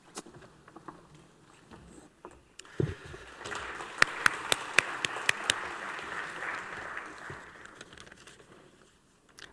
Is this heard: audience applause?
yes